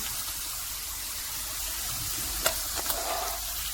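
Garlic and chillies frying in hot oil for a tadka, a constant broad sizzle that fills the clip, with a couple of brief sharp clicks near the end.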